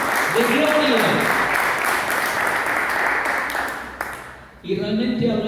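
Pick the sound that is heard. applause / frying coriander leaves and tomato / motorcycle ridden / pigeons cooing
applause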